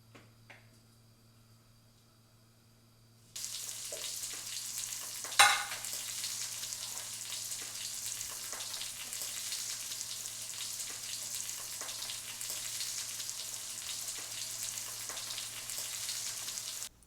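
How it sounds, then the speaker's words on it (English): Two ribeye steaks drop into a pan of melted butter, bursting from near quiet into a loud, constant sear and crackle that holds steady, with one sharp clank as they land. "Okay, time to put the steaks in."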